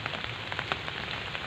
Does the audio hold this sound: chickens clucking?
no